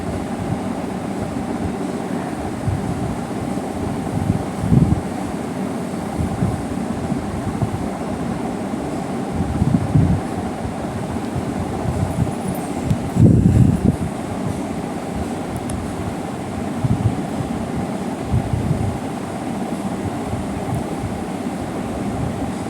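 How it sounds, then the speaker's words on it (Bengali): An electric kitchen mixer grinding ginger, chili, garlic and onion with coconut for a Bengali prawn pitha, a steady loud whirring drone that rises and surges in several bursts. "দেখতেই পাচ্ছ আমি একসাথে নিয়েছি মিক্সিতে"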